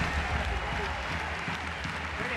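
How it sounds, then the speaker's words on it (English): Applause rings out for French women's rugby players after a Six Nations match against England, a short burst of crowd clapping running under a speaking voice. "Merci d'applaudir Julie Annery,"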